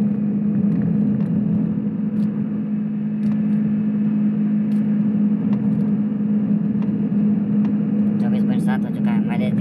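A car cruises at a steady speed in one gear on a good road, giving a constant, loud engine and road drone with a low hum throughout, while someone talks over it.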